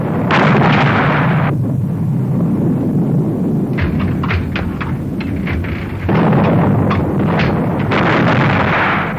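Naval artillery from battleships, heavy gun blasts with rumbling roars and scattered sharp bursts, loud and sustained, with no voices.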